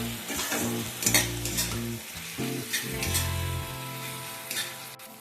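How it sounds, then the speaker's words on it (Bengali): Tomatoes with salt fry and sizzle in a pan as a spatula stirs them, giving scraping strokes and light clinks over a steady crackle, close and quiet, no voices. "এবার কিছুক্ষণ নাড়াচাড়া করব যাতে টমেটোটা একটু গলে গলে যায়"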